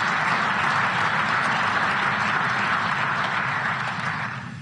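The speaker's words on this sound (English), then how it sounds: "I hope that's not the last bit of applause that I get" A large conference audience applauds at the Munich Security Conference, a dense, steady wash of clapping that holds for several seconds before tapering off at the end.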